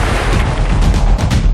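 A massive car explosion set off as a practical stunt during filming of a Transformers movie, a loud, sustained roaring blast with deep rumbling and continuous crackling debris throughout.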